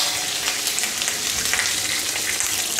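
Curry leaves fry with green chillies in a hot oil tempering for an Andhra-style yam and Malabar spinach curry, a steady loud hiss and crackle with stirring, no talk.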